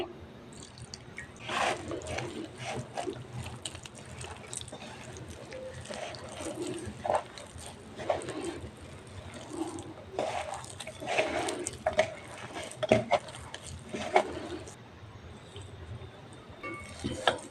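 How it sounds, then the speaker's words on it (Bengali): Dough for Punjabi methi paratha being kneaded by hand with warm water, giving soft, irregular wet squishing and slapping sounds that continue steadily at close range. "এবার হালকা গরম জল দিয়ে মেখে নেব"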